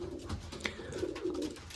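Young racing pigeons cooing nearby, a low, soft, throaty warble with a faint rustle of movement, no talking.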